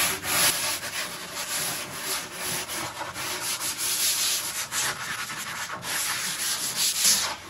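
Continuous scratchy rubbing of sandpaper on the edges of a wooden desk, steady back-and-forth strokes by hand, close and loud with no talking.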